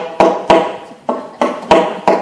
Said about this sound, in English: And now a slapped articulation.